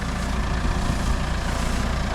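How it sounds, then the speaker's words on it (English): Tractor with a front end loader idling steadily nearby, a constant low engine rumble with no speech. "Pretty simple with the tractor with the front end loader."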